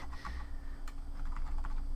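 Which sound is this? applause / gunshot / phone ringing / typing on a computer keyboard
typing on a computer keyboard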